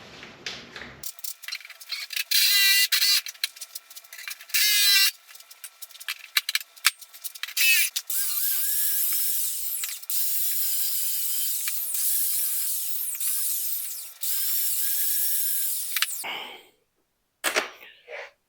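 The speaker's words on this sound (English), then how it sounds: "with the jigsaw" A jigsaw cuts sheet steel for the sill box beam of an MGA during restoration, giving long, loud, harsh buzzing passes broken by short stops, with no voice heard.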